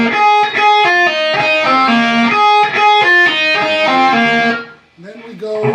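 Electric guitar playing a song's riff slowly, a run of quick picked notes climbing up the strings with a steady rhythm, loud and close, then a short pause and a few more notes, with no talking.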